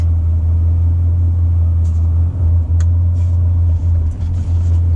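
A 2018 Chevy Silverado 2500 Duramax diesel truck shifted into drive, a loud steady low diesel rumble close up with faint clicks above it.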